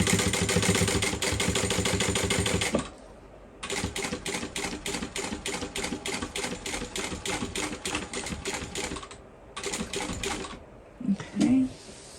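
A sewing machine stitches a bowler bag seam through layered fabric, running in loud, rapid bursts of needle clatter with short pauses between runs as it goes across and back, and a faint handling thump near the end.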